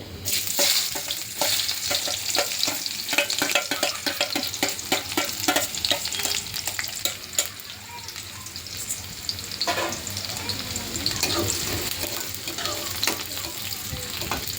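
Shallots frying with mustard seeds in hot oil for a prawn curry, a steady close sizzle with crackling pops and occasional stirring scrapes throughout, no talking.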